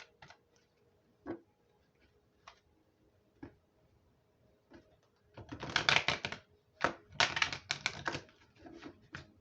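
Sparse light clicks and taps give way to denser bursts of crisp riffling as a deck of cards is shuffled close by, with no talking.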